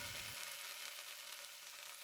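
Pork fat searing in a hot pan for garlic miso pork, a steady dense sizzle that holds at an even level throughout, with no voices.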